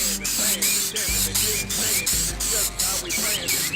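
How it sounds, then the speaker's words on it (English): A rattle spray can of clear coat hisses over a waterslide decal, with rapid repeated short bursts of spray at an even pace, close and fairly loud, with faint tapping and handling sounds beneath. "let's grab our rattle can, and we'll hit it a second time"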